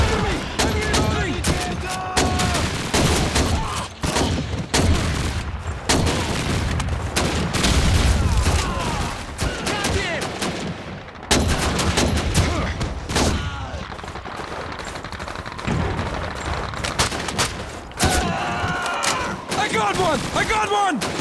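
Heavy gunfire in a Leningrad battle on a Call of Duty custom map, with loud, dense bursts of rifle and machine-gun shots and booms that go on throughout, under shouted voices.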